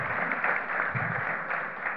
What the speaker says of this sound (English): I'd just like to ask you to give these gentlemen a round of applause for taking their time